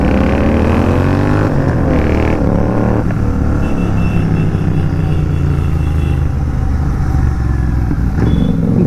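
Royal Enfield GT 650 motorcycle ridden at night, its loud raw twin-cylinder exhaust roaring continuously up close, rising through revs early on and then settling into a steady throbbing cruise with no talk.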